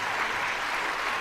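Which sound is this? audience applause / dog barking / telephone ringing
audience applause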